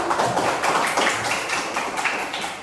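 A fourth-grade primary school class applauds a student group, a steady dense wash of many hands clapping close by for the whole stretch, with no talk over it.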